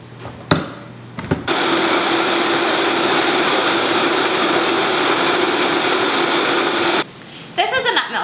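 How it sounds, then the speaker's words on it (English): A kitchen blender running on medium speed, blending soaked nuts with cold water for nut milk. After a few brief knocks it roars loud and steady for about six seconds, then cuts off, followed by small handling sounds. "Next, we're gonna blend it on medium for about 60 seconds."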